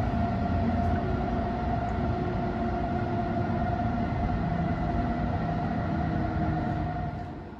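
A EuroCity 8 train pulls into Mannheim main station, heard from aboard as a steady, loud rumble of wheels with a sustained tonal hum, easing slightly at the end.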